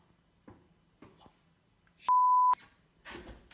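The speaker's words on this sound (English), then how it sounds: "Is that an alarm?" A single loud electronic alarm beep, a steady tone lasting about half a second, stands out after a few soft, muffled knocks and rustles in a quiet indoor space.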